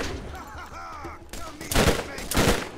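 Rapid bursts of gunfire in the Borderlands shooter, a loud dense fusillade with a voice over the opening second and heavy volleys near the end.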